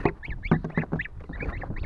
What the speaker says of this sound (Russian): Вот такая желтая команда гусиков сидит в коробке.